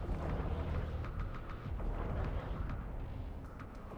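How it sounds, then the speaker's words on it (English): Continuous rumbling explosions and booming bursts in the space game Eve Online fill the clip, dense and loud, with sharp pops scattered throughout a heavy low roar. "All these explosions going around."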